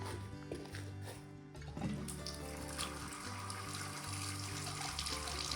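Water flowing through a Little Giant sprayer boom and mixing valve in a horse wash stall, a steady faucet-like rush with a hum beneath, moderately faint and continuous.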